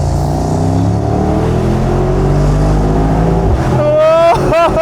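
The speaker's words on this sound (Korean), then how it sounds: "이 차 바로 밟아보겠습니다" A Mercedes-AMG SL63 with a twin-turbo V8 accelerates hard, its deep engine note climbing steadily in pitch, then a quick upshift drop and a fresh rising wail near the end, loud and close from inside the car.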